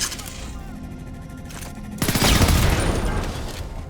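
Gunfire rattles in Homefront: The Revolution at Ashgate, rapid bursts of automatic shots that swell louder and closer midway, with background game ambience.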